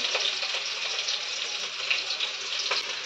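Potatoes frying in oil in a pan for a fish curry with winter vegetables, a steady close hiss of sizzling with faint clinks, no talking.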